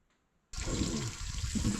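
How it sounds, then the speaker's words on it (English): A steady gush of running water kicks in abruptly and keeps flowing as limes are rinsed beneath it outdoors, close and continuous with no talking. "I'm gonna get these washed up, rinsed off, so I can squeeze them"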